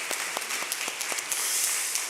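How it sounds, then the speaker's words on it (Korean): Applause from a church congregation during a Sunday service, a steady patter of many hands clapping close by that swells and thickens toward the end, with no one talking over it. "우리 수고하신 모든 분들께 한번 감사의 박수, 하나님께 영광의 박수 올려드리겠습니다"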